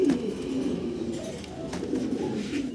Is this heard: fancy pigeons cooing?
yes